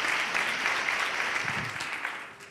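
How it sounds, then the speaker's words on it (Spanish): An audience at a live Q&A session with comedian Galder Varas breaks into applause, a close, full wash of clapping that stays loud before easing off slightly at the end. "Un aplauso para ella"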